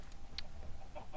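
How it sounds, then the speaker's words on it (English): Chickens in the video game Minecraft, heard as a few short, scattered clucks over a low background murmur. "It's getting annoying having all these chickens."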